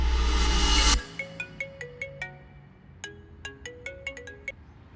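An incoming video call sets off a phone ringtone, a melodic electronic chime that repeats in short bright note patterns after a loud burst of music, clear and moderately close.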